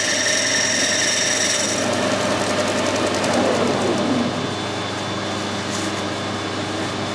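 A lathe cutting plastic with a broad high-speed steel tool gives a steady loud machine drone with a constant hum, plus a high whine and a scraping cut sweeping through the middle.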